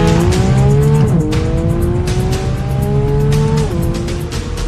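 A hot rod race car makes passes on a race track, its engine buzzing at high revs with shifting pitch and a gear change, loud and continuous with tire noise.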